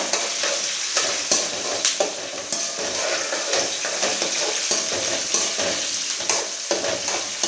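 Curry leaves and other ingredients sautéing in a pan for sambar, a steady close sizzle with repeated stirring scrapes and spoon knocks throughout.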